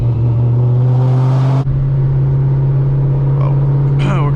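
A Ford Shelby with added boost, driven without its rear bumper, gives a loud, steady low engine drone from inside the car throughout, with a revving rise near the start that eases off.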